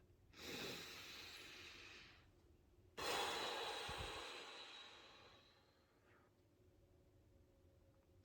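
Two slow, deep breaths, a long inhale followed by a longer exhale, close and breathy against a quiet room.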